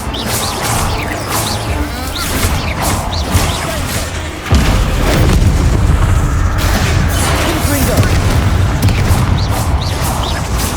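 Confringo fire spell blasts erupt in Hogwarts Legacy, with a heavy boom jumping in loudness midway and rumbling on under whooshing magic, crashing debris and game sounds, while a voice speaks over it.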